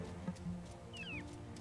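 A cat in the video game Wylde Flowers gives a short, rising-then-falling meow at moderate distance over a quiet ambient background.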